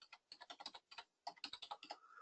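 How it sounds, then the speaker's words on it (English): Rapid, close-up clicking of a computer keyboard as someone types in quick bursts, with a brief pause partway through. "I'm just typing in what I'm looking for."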